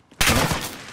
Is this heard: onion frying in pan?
no